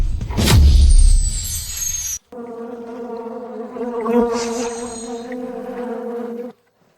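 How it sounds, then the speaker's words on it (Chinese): Flies and mosquitoes swarm over a pile of garbage dumped from a construction site, making a loud, close, steady droning buzz. It follows a brief whooshing burst and cuts off abruptly. "蚊子苍蝇一大堆"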